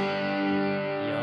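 Distorted electric guitar through a Tank G amp with gain raised to 55, a brief sustained overdriven chord ringing thick and buzzy, loud and alone.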